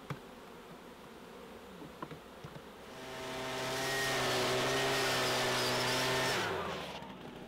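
Honey bees buzz around hives at a honey farm as a blower pushes stragglers back home, a faint hum swelling into a loud, steady whining drone in the middle before fading.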